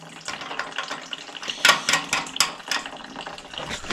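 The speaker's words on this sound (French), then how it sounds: "je revidange que le radiateur, pas l'installation complète" Water draining out of a home heating radiator during a partial drain-down, a splashing, trickling flow with clattering knocks and bursts, fairly close and steady, with no talk over it.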